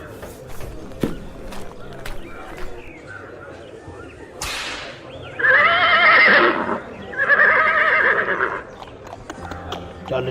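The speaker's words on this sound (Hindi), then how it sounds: "भाग मेरे घोड़े, भाग भाग।" A horse whinnies loudly twice in long neighing calls, with a whip crack and clip-clop hoofbeats around them, as a horse is urged to run toward a college.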